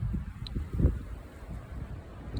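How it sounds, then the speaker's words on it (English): Strong wind gusts buffet the microphone on an exposed mountain trail near a peak, a low rumbling roar that swells and eases in short bursts. "But it's too windy."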